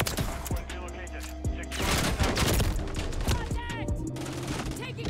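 Gunfire in the video game Modern Warfare 3, dense rapid bursts of shots crackling amid game noise, loud and continuous across the stretch with faint voices mixed in.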